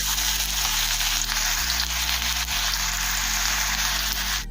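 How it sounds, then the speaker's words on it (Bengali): Chopped onions sizzle in hot white oil in a kadai, a steady, even frying hiss that holds throughout with no talk over it. "তেল গরম হয়ে গিয়েছে এখন তেলের মধ্যে দেবো দুটো মিডিয়াম সাইজের কোচানো পেঁয়াজ"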